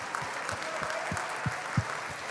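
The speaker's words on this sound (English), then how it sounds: "give him a round of applause" Sustained audience applause for Aiden O'Brien, a high school senior, at a benefit cook-off: a dense, steady wash of many hands clapping, with a few heavier low thumps standing out near the end.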